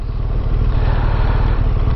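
A motorcycle on a short ride, heard through a helmet microphone as a loud, steady low engine rumble mixed with rushing wind.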